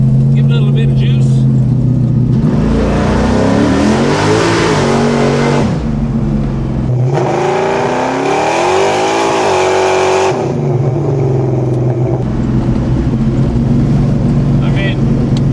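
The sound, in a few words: 1970 Chevelle 502 engine revving and accelerating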